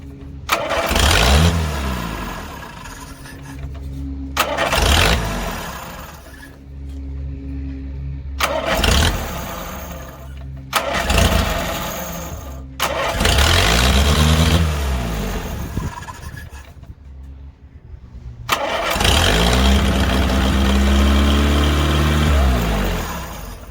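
A car engine repeatedly cranks and starts, running briefly then cutting out several times over about twenty seconds, with loud rumbling bursts separated by quiet gaps and occasional voices.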